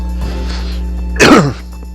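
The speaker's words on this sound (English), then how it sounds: "Have a bit of a cough this morning." A single short, harsh cough close to the microphone, preceded by a faint low hum and quiet background.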